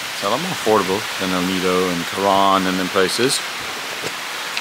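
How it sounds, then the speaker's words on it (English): Heavy rain falling in Palawan, Philippines, a steady hiss of downpour running under a person talking throughout. "But it's raining."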